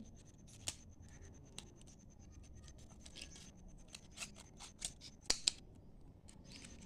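Scissors snip through a plastic bottle to shape hair pins, a series of crisp, close cuts spaced irregularly, growing a little louder and quicker toward the end.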